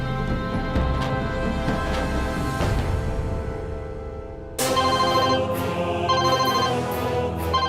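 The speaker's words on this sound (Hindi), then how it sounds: "अरे तो आकाश का ही फोन है" A telephone rings with a melodic ringtone inside a family home. The tone plays steadily and clearly with no talk over it, then shifts partway through into a brighter, louder repeat of the tune.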